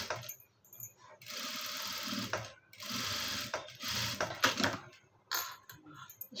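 A sewing machine stitches along a folded cloth edge in several short bursts of rapid, rattling needle action, close and fairly quiet, broken by brief pauses and small clicks.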